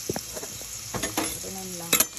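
Smoked ham and chili stirred in a hot pan for a munggo dish, with short scraping strokes over a soft sizzle, close and fairly quiet.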